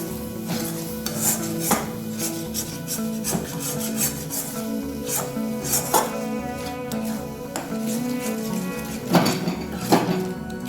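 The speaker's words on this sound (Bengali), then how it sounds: "এবার সবটাকে ভালো করে মিশিয়ে নেব।" A spoon scrapes and rubs through egg korma mixture in a pan, making repeated close, rhythmic scraping strokes with a few sharper knocks against the metal.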